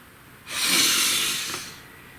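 A single deep breath drawn in and let out by a woman pausing to compose herself, a broad airy rush lasting about a second, close to the microphone, with no talk.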